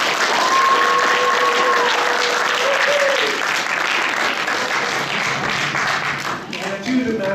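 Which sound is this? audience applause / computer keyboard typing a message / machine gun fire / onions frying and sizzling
audience applause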